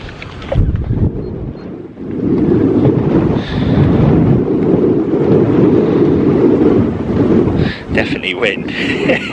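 Wind gusting across a fishery lake in an Essex winter, a steady low roar buffeting the microphone for most of the clip, easing near the end, with faint higher rustles on top.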